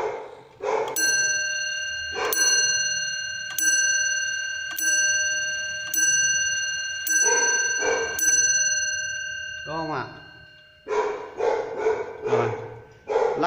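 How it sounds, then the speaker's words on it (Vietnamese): A German wall clock strikes its chime bell, about eight evenly spaced metallic strokes with long ringing decays, close and loud, with a few barks from a dog breaking in toward the end. "Ở giờ lợ nó sẽ vỗ điểm một hồi chuông báo, còn ở giờ chẵn thì nó điểm theo theo hồi của giờ."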